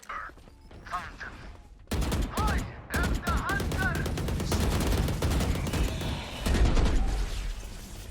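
Rapid bursts of gunfire in a shooter video game, sharp repeated shots crowding the second half after a quieter start, with mechanical clicks and short in-game tones mixed in.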